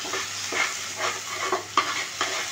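Ripe pointed gourd fries in a pan with a steady close sizzle, broken by soft scraping as it is stirred every half second or so.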